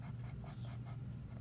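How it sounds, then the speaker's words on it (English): A charcoal blending stump rubs back and forth on paper, a quiet close scratchy swishing in quick repeated strokes, about six or seven passes in under two seconds. "Now I'm coming in with the blending stump."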